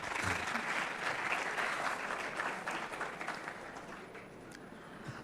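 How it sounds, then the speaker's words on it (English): Audience at a university welcoming event for a visiting delegation breaks into steady, dense applause that holds for several seconds and gradually eases, moderately distant and filling the hall. "Can we have a round of applause?"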